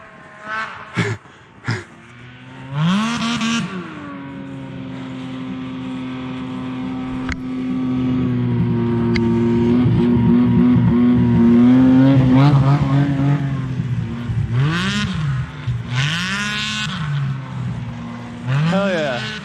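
Snowmobiles pass along a snowy trail, their engines rising to a loud, sustained roar and revving with shifting pitch before easing off, close by and fairly steady.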